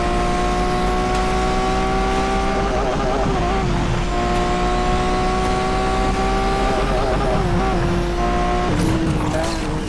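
A Lamborghini Veneno drifts in the Asphalt 8 racing game, with a steady, loud engine drone whose pitch rises and falls through the slides, ending in a brief burst of tire noise near the end.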